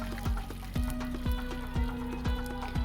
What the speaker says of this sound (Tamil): அந்த கடலைப்பருப்பு கடுகு எல்லாம் நல்லா பொரிஞ்சு வந்த பிறகு